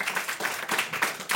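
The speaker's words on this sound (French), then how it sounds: "vous pouvez vous applaudir" Podcast audience clapping at a live recording, a dense, continuous patter of many hands in a room, fairly loud and steady with small surges throughout.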